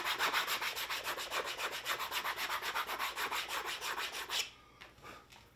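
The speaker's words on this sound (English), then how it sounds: "if you go at it very gently with a piece of sandpaper, it's amazing what difference you can make" Sandpaper rubbed gently along a cut leather edge for a lampshade, a rapid rhythmic scratching of back-and-forth strokes, close and steady, then stopping abruptly, followed by faint rustling.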